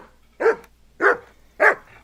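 A dog in Kingdom Come: Deliverance II barks three times at an even, unhurried pace, each bark close and fairly loud, with brief quiet gaps between them.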